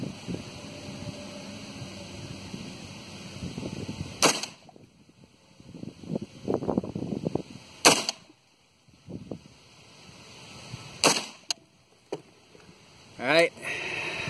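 Pistol test-fired at a range to zero a micro red dot sight, a few sharp, loud single shots spaced several seconds apart, with someone talking between them.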